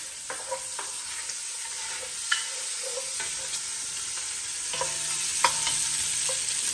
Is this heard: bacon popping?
yes